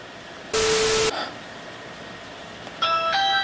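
A Ring electronic doorbell chime rings out in a loud burst of static-like tone, followed moments later by a second, brighter chiming tone.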